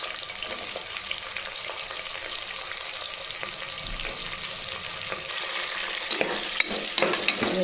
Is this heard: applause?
no